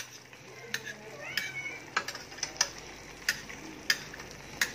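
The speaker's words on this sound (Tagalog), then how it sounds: "Haluin natin ang sauce." Sauce for milkfish adobo being stirred in a pan, soft bubbling sizzle under a run of light rhythmic utensil clicks and taps against the pan's edge, close and fairly quiet.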